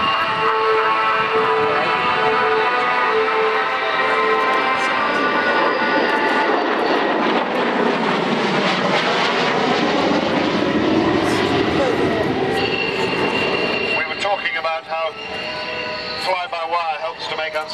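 A military jet roars overhead at the Fairford air show, a loud, sweeping engine rumble that swells and shifts pitch as the aircraft passes, with someone talking over it.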